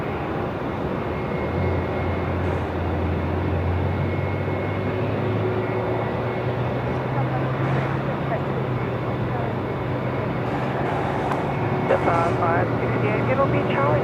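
Airliner arriving at Melbourne Airport, a steady loud jet roar sustained throughout with a low drone rising slightly in pitch, while people talk quietly over it.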